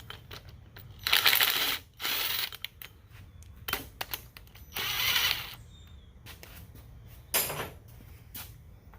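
A ratchet clicks in several bursts of rapid ratcheting while removing water pump bolts from a Willys Jeep F134 engine, separated by short pauses, loud and close with no talking.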